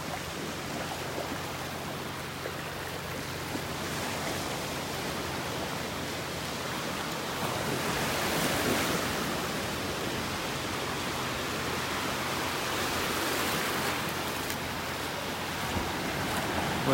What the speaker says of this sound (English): Those waves are really breaking on the edge of the sandbar out there.